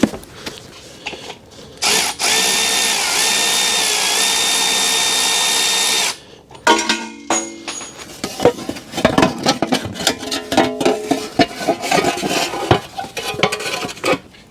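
A power tool whirs steadily for several seconds while removing a bracket from a Toyota Altezza exhaust system, followed by metallic clinks, rattles and scraping of tools and parts close by.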